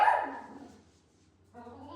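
A dog barks loudly at the start, close and sharp, then fades into a quiet room before a voice comes in near the end.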